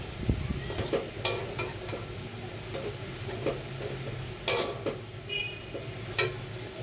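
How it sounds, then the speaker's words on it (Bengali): A spatula stirring a potato and flour mixture as it fries in a pan, with irregular scrapes and knocks over a low, steady sizzle, close up and without talk. "এখন আমি এটাকে রান্না করে নিচ্ছি"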